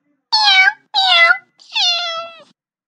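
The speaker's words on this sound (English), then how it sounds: "Cat. Meow, meow," A cat gives three loud, close meows: two short ones in quick succession, then a longer, drawn-out call, with silence in between.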